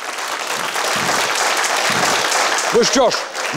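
Studio audience applause on a TV quiz show, a sustained, broad clapping roar that carries throughout, with a short burst of voices near the end.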